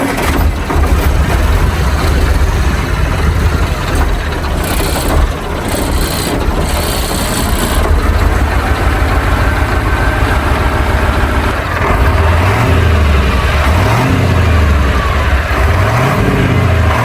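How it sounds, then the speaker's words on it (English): A KamAZ truck engine runs loud and close throughout, a steady heavy diesel rumble with rattling mechanical noise, rising in low pulses near the end as the truck begins to move. "let's start up the KamAZ and let's just do a little drive with it."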